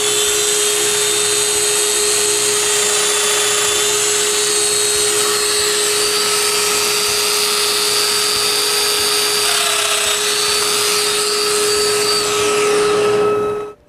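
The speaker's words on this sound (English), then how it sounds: "Then I make the domino holes on the front stiles." Domino joiner cutting mortises into wooden front stiles of a nightstand, a steady high-pitched whine running continuously for the whole stretch with no talk, trailing off right at the end.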